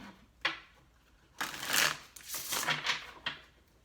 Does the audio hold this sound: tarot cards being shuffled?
yes